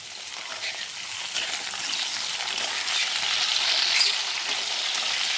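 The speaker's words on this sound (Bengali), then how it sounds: "আলুটা একটু ভাজা হলে বেগুনটা ছেড়ে দিলাম" Potatoes and eggplant fry in hot oil, giving a continuous close hissing sizzle that swells a little midway and holds steady, with no talk over it.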